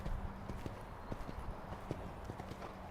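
Hooves of a horse cantering in a riding lesson beat in a steady rhythm. The footfalls are muffled and moderately distant over faint background noise.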